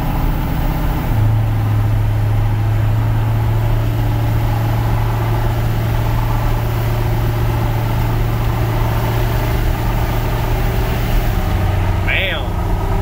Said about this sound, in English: God, that's a spicy gear change.